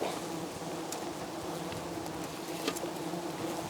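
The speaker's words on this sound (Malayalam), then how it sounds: "ഇതാണ് തേനീച്ച" Wild honeybees buzzing in a forest, a steady, dense drone of many insects close to the microphone, continuous and fairly faint with no talk.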